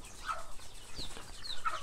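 Chickens on a desi poultry farm cluck faintly with a few scattered calls against a steady background murmur, and no one talks over them.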